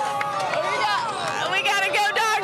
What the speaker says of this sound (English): We got a Go Dogs cheer going on.